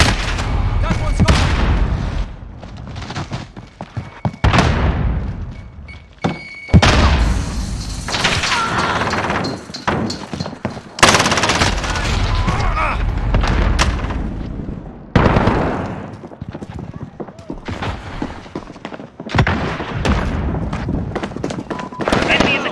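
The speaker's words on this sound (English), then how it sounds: "Throwing grenades!" Call of Duty Modern Warfare hardcore team deathmatch, with heavy grenade blasts and thumping booms breaking out repeatedly among bursts of gunfire, loud and close, while game voices shout callouts throughout.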